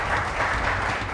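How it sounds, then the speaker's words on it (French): Audience applause for Sandra, a contestant on a French cooking competition show: a steady, dense wash of clapping that holds at an even level through the whole short moment. "Donc on applaudit quand même Sandra."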